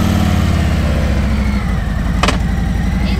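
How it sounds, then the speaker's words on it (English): Harley-Davidson Road Glide motorcycle engine idling close by, a loud steady low rumble with a rhythmic pulse, broken by a brief sharp click midway. "Flip the bike on, ensure that it is in neutral"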